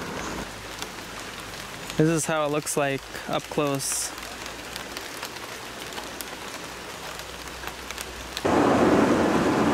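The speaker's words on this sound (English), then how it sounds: "It's starting to rain here, so I'm gonna have to find shelter." Rain begins falling during a hike on Praslin in the Seychelles, a steady close hiss on foliage and ground that swells louder toward the end, with someone talking briefly early on.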